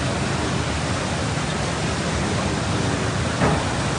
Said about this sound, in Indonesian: air sungai sudah meluap.